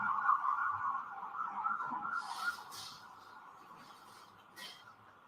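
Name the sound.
emergency vehicle sirens passing outside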